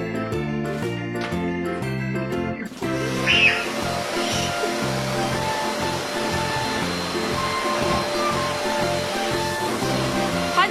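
A red Fantom electric vacuum cleaner sweeping floors at home, starting up after a few seconds and then running as a loud steady whine and roar, close, with a voice faintly at the start.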